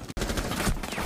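Rapid gunfire in the tactical shooter game Rainbow Six Siege, a loud dense burst of automatic shots that runs almost nonstop apart from one brief gap near the start.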